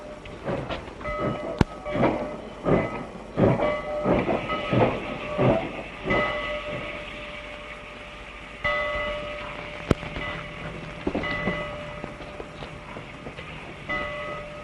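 A steam-era passenger train at a station, heard up close with rhythmic clanking and hissing bursts, then a steadier rolling rumble with brief metallic clacks and a faint whistle-like tone, no voices.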